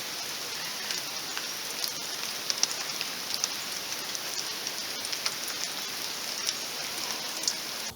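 Rain falls steadily through a winter forest, a dense even hiss of drops with occasional sharper patters close by, no voices over it.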